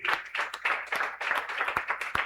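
A church congregation applauds steadily during a live healing and deliverance service, many hands clapping in a dense, continuous roar with sharp individual claps standing out.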